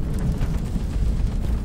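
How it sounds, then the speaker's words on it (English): A deep, rumbling explosion in Cyberpunk 2077 rolls on as a sustained low boom and roar, loud and close, with no voices over it. "It's not the biggest explosion"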